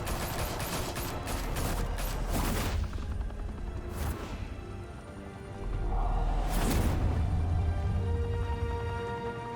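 Gunfire erupts in the Batman: The Telltale Series video game on PS4 as a crew opens fire, loud bursts of shots and impacts crackling across several seconds with booming swells near the middle and end.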